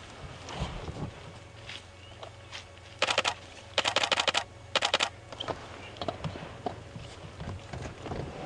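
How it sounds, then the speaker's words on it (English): Camera shutter clicking rapidly during a sunrise safari drive, bursts of quick close mechanical clicks in clusters over a low idling vehicle hum, with soft knocks between. "you hear that clicking. Don't worry, that's just me taking a few photographs"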